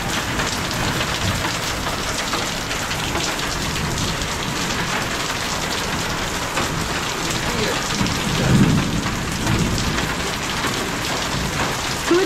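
Heavy rain pours steadily outside a roadside food stall, a dense continuous hiss with a low thunder rumble rolling in near the end, loud and close.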